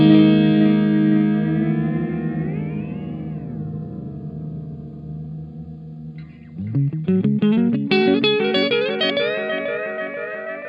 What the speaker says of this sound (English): tweaking the time knob gives you all those spaceship sounds